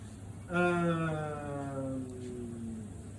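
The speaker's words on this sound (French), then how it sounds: "Ça, c'est le moteur de l'agitateur du bassin d'aération." An aeration tank agitator motor at an activated sludge pilot plant starts up with a steady electric hum and whine that settles into a constant drone over background machinery noise.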